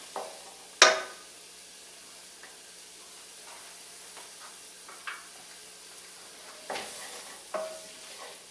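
Sliced jalapenos and chunked celery dropped into a hot pot: a sharp sizzling burst at first, then soft frying hiss with a few stirring clatters. Close and moderately quiet, with no talking.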